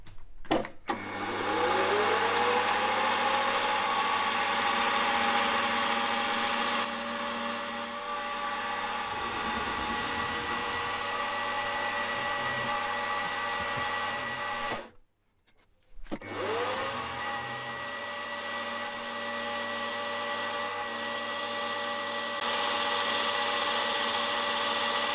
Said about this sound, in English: I'm running out of depth on the stub drill